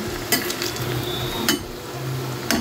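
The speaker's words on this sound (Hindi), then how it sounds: "तो ये देखिए फ्राई होने लगी है ये कुछ कुछ" Noodles frying for street-style Chinese bhel, a constant dense sizzle up close punctuated by three sharp metallic stirring clanks spaced about a second apart, without speech.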